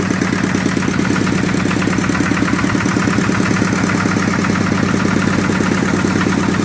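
An old lawn mower engine running steadily with a trailer attached, a loud, close, rhythmic mid-pitched chugging with a constant vibrating hum and no talking.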